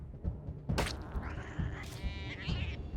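A cat in the Wasteland 3 video game lets out a couple of drawn-out, rising meows, clear and fairly close, over soft background thumps.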